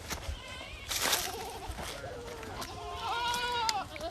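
Several goats bleat in a forest, some calls near and others farther off, wavering cries repeating over steady outdoor background noise.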